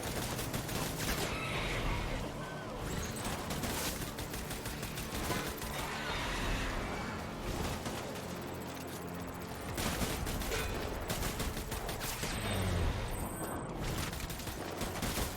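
In the video game Death Stranding, dense gunfire comes in from the side as sustained volleys and rattling bursts that run through the whole stretch at a moderate, steady level.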